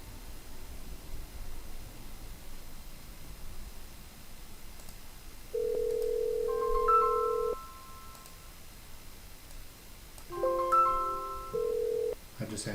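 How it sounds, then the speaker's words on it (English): Ringing tones on a 3CX business phone system line, steady tone bursts with rising chirps repeating twice over a faint hissy background, no talking. "you're going to hear that my phone starts to ring."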